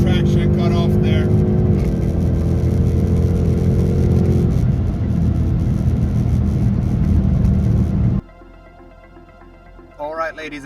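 Hard acceleration of a car doing an eighth-mile drag run in drag mode, with wheel spin and traction control cutting in: a loud, sustained engine roar that builds for about eight seconds, then cuts abruptly to quiet, with a brief voice at the end.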